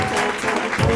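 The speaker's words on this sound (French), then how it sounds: "d'applaudir Monsieur Nino Arial" Dense applause from a television studio audience fills the whole second, steady and fairly loud.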